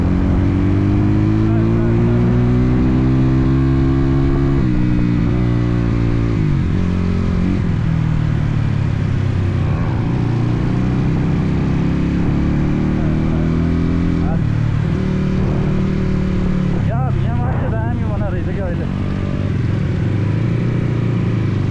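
A dirt bike rides a mountain trail in Palpa, Nepal, its engine loud and close throughout, revving and shifting pitch as the bike slips on the surface, with steady low rumble and occasional throttle bursts.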